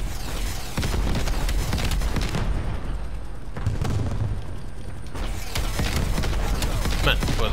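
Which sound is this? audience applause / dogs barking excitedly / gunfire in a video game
gunfire in a video game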